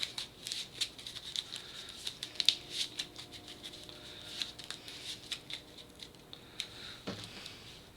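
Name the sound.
shuffling a deck of cards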